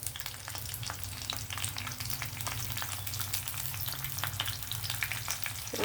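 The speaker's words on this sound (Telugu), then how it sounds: "వేడెక్కుతున్నప్పుడే జీలకర్ర ఆవాలు రెండేమో ఎండుమిర్చి కొద్దిగా కరివేపాకు" Cumin, mustard seeds, dried red chillies and curry leaves frying in hot oil for a ginger chutney tempering make a steady, dense crackling sizzle with tiny pops throughout.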